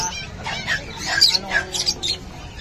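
Birds at a busy bird market in Bocaue chirp and cluck close by in short overlapping bursts. The calls are moderately loud, and faint background noise runs beneath them.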